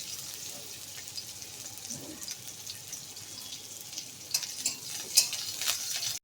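Chopped onion and whole tempering spices frying in oil in a pan, a soft, fairly faint sizzle that grows brighter with a few sharp crackles toward the end.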